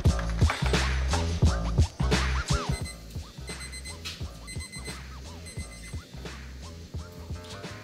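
A brew day countdown timer alarm going off, a loud repeated electronic beeping pattern with scraping handling noises, fading somewhat after the first few seconds while continuing to ring.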